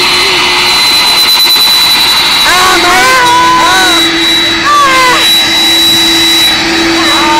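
Loud jet engine roar with a high steady whine from an airplane landing at Manchester Airport, while excited voices talk and exclaim over it.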